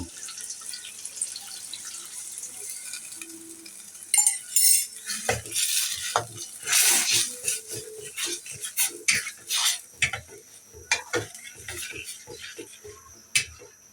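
Milk poured into grated carrot halwa cooking in a pan, starting as a faint liquid trickle, then a splash followed by spoon scrapes and clinks against the metal pan, moderately loud and uneven, with no talking.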